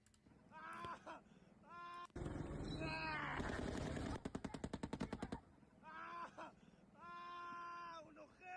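Automatic gunfire in combat footage from the Israel–Lebanon conflict: a dense burst of rapid shots runs for about three seconds mid-clip, with louder distinct reports near the end, set between stretches of voices talking.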